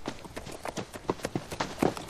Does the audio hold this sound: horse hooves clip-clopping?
yes